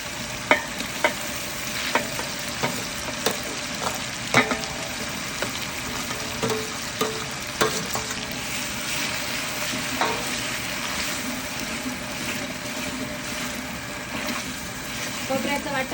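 Ground coconut paste with ginger, garlic, coriander and curry leaves fries in a large pan for bulk misal, a steady sizzle broken by regular scraping strokes of a spatula roughly every second.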